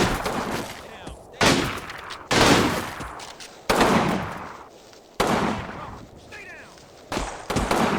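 Bursts of gunfire in the World War II strategy game Combat Mission Final Blitzkrieg, with several loud volleys and machine-gun fusillades hitting at irregular intervals over a rumbling battlefield background, with someone talking over it at times.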